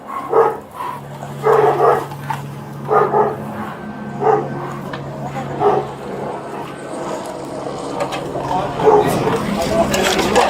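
An LAPD K9 police dog barks in repeated loud bursts at close range during an arrest at a crawl space, with people shouting over and between the barks and a steady low hum underneath.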